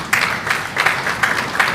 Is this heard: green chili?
no